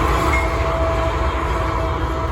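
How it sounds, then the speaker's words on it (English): An NS intermodal freight train rolls past near the Cuyahoga River in northeast Ohio, a loud, continuous rumble of wheels and wagons with a faint horn tone, no voices. "intermodal train coming from Harrisburg, Pennsylvania's GI 18 and terminating in Chicago, Illinois"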